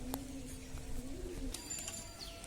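Pigeons around a temple, with soft low cooing that continues steadily and a few brief bird chirps, heard at moderate distance against faint outdoor background noise.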